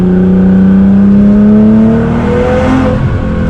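A Nissan GTR engine pulls hard on a country road, its loud steady drone rising slowly in pitch as the car accelerates, close and continuous with no talk over it.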